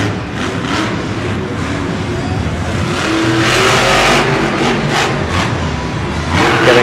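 At a Monster Jam 2018 stadium show, a monster truck engine roars and revs loudly and continuously as it launches off a car-ramp jump, the crowd and arena noise swelling beneath it.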